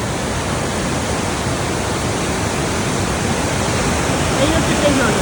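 A waterfall near at hand, pouring into a stream that flows past, roars as a steady, dense rush of water, loud and unbroken throughout with no pauses.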